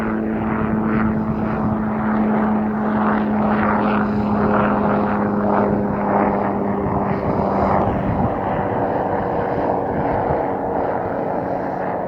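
A helicopter chasing wild horses during a roundup drones with a steady, loud rotor and engine hum, a throbbing beat pulsing evenly for the whole stretch with no voices.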